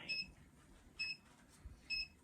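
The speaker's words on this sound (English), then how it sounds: "And I like to let it beep a little longer." A heat press timer gives three short, high electronic beeps at an even pace, roughly a second apart, clear against a quiet background.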